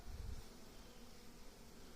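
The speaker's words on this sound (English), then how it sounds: "There's a lot of bees on that cover" Honeybees buzzing on a beehive cover, a faint, steady low drone of many insects with a slightly stronger burst at the start, no voices.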